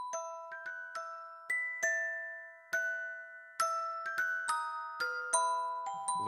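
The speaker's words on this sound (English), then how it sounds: "Let's move a little bit to some classical sounds." Celesta voice on a Dexibell digital instrument plays a delicate melody of clear bell-like notes, each struck and ringing briefly, soft and solo with no talking.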